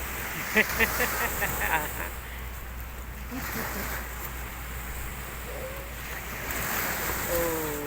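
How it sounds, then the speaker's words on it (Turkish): Sea waves breaking and washing along a shore at Giresun, a steady surf wash under wind noise with someone talking and laughing over it. "Aşağı alacak dalga. Dalga aşağı alacak dalga."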